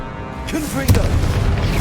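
A Confringo fire spell from Hogwarts Legacy bursts with one loud, deep boom a little under a second in, then rumbles on briefly over steady game ambience.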